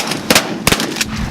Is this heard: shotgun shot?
yes